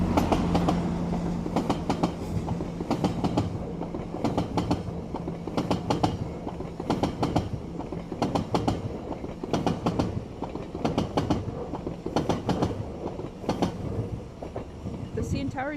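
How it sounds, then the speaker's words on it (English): A train rolls past on the rails during a city walk near the CN Tower in Toronto, a steady rumble with repeated rhythmic wheel clacks running the whole time under faint street noise. "it'll be even better if we catch a train here"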